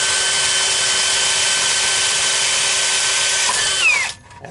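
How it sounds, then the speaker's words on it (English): A power drill bores an oiled pilot hole with a steady, loud whine for about four seconds, then the pitch drops and it winds down and stops near the end. The work is on a Ford 6.0 diesel. "your drill bit's going to dull really quickly then. So, lots of oil."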